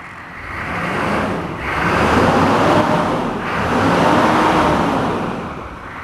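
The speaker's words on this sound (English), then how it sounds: "That clutch fan's not disengaging," Chevrolet K2500 pickup with about 283,000 miles idling with its engine clutch fan stuck engaged, a loud, dense roar that swells and eases in broad waves, close by, with no talk.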